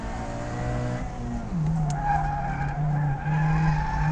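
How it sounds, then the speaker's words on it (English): A supercharged ND Mazda Miata on Michelin Pilot Super Sport tires runs hard on a track in third gear, its engine note climbing steadily while tires squeal and skid into a corner. "Fast up this back straightaway, third gear, hard into the skid pad here."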